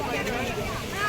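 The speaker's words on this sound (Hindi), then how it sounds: "लगातार तेज हवाएं शुरू हो चुकी है।" Strong wind gusts roar and buffet the microphone on the Ganges riverbank in Haridwar, a steady rushing wash under someone talking.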